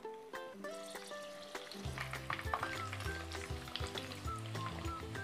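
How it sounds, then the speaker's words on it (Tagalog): Homemade lumpia spring rolls, eight at a time, crackle and sizzle in hot oil, a steady bubbling fry with scattered pops, fairly quiet, while faint music plays underneath. "Siguraduhin mainit ang mantika para hindi maging oily ang mga lumpia."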